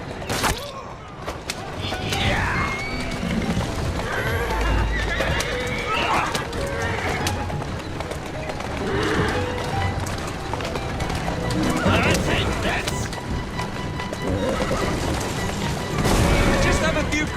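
A horse in the video game Assassin's Creed Syndicate whinnies and its hooves clip-clop over a busy street soundscape. Distant gunfire and other game sounds run throughout, with a few louder bursts.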